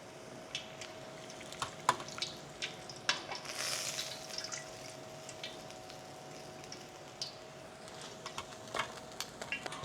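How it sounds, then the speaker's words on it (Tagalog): Pork belly double frying in hot oil for crispy kare kare, a steady low sizzle with scattered pops and crackles, fairly quiet and close, with no talking. "Bali mga 5 minutes lang natin siyang i-double fry."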